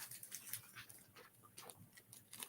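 A puppy pants in quick, breathy puffs broken by faint, high whimpers, heard close but quietly with no talking.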